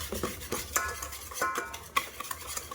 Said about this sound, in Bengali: দিয়ে আবারও আমি এইভাবে নাড়াচাড়া করতে থাকবো